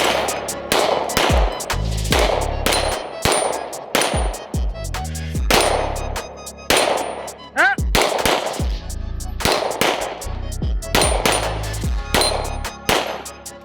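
Repeated gunshots from pistols at an outdoor shooting range, including a suppressed FNX-45 and a P320: loud, sharp reports fired in quick bursts and single shots, about a dozen in all, with no talking over them.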